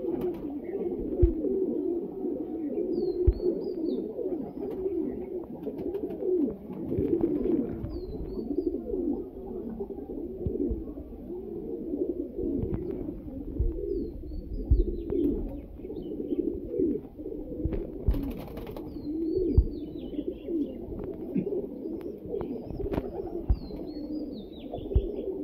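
Breeder pigeons coo steadily at close range, a continuous murmur of soft throaty calls with occasional sharper chirps and rustles, and no one speaking.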